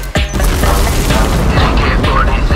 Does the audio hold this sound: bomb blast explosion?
yes